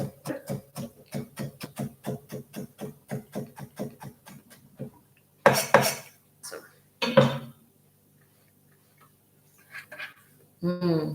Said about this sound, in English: I'm just gonna chop.